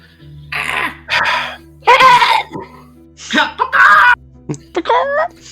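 A voice imitates the ear-piercing screech of an axe beak, with loud wailing, strained cries and throaty bursts in several separate outbursts over about five seconds.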